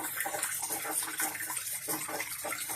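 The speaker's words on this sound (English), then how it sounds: "I have a whirlpool going in my tank. I stirred it" Water swirling in a stirred tank or barrel, a steady rushing, gushing churn that stays loud and even throughout.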